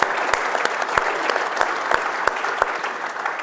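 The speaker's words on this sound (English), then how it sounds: "round of applause for that." An audience at an event with the St. Louis Blues hockey team's CEO breaks into a dense, steady round of applause with a few sharper claps standing out, loud and sustained throughout.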